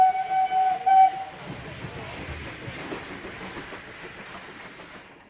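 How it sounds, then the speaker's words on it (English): A steam whistle sounds in a few loud blasts over the first second as a train reaches a mountain terminal, then a steady rushing rumble of the moving train carries on alone to the end. "Every 10 minutes, a train would arrive at the mountain terminal"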